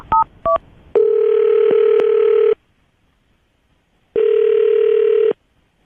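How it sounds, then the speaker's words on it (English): A landline telephone being dialed: two short keypad tones at the start, then a steady dial or ringback tone holding about a second and a half, a pause, and the tone sounding again, loud and close with no talk. "I'll dial their phone number right now"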